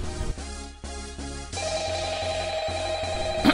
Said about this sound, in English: Oh, it's my phone! Jeez, I wonder who could be calling?